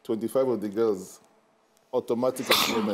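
A single sharp sneeze bursts out during a conversation about employment in Lagos State, with people talking loudly before and around it.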